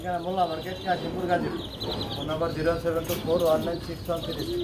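Pigeons coo repeatedly at a pigeon seller's loft in Bangladesh, soft rolling calls overlapping with chirps and someone talking over them throughout.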